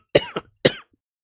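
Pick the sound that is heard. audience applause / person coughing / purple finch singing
person coughing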